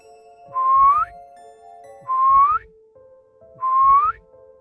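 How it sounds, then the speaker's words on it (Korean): A woman's eerie whistled phrase, a horror story sound effect, repeats three times in short rising notes against a faint sustained drone, near and clear with quiet gaps between. "그런데도 휘파람을 불고 있었다"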